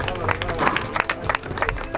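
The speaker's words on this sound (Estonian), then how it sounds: "Aplaus veel sõitjatele." A motorcycle race crowd claps for the riders in a short, dense burst of applause with some crowd murmur mixed in.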